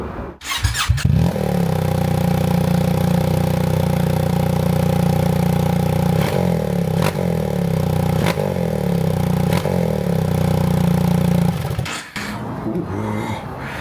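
A BMW R1300GS motorcycle with its exhaust removed starts with a clattery burst, then runs at a loud, steady idle with a raw, mechanical rasp and a few faint ticks before the engine cuts off.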